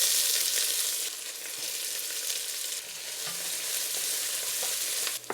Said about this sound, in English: I'm going to add in our onion now